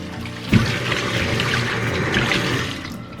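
Two jin of beef short ribs rinsed under a running kitchen tap, a steady close trickle and splash of water on meat with a brief louder knock near the start.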